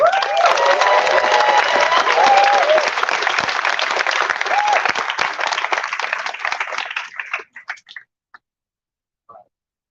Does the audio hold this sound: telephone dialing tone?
no